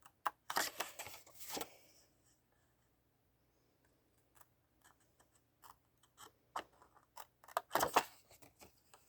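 Scissors cutting small corner squares from paper, quick bursts of crisp snipping near the start and again near the end, with quiet paper handling and light taps in between.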